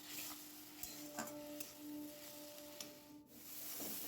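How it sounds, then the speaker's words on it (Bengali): Spice paste with salt and turmeric, no red chilli, being fried down and stirred in a pan for a spring onion egg curry: a soft scraping and rubbing of the spoon with a faint low sizzle. It stays close and steady, and there is no talk. "চলো এবার ভালো করে কষিয়ে নিই।"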